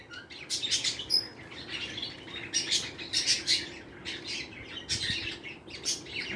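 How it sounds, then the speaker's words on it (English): Budgies chirp and twitter busily in a flock, their high, rapid calls overlapping at moderate distance over a soft background hum. "Budgies."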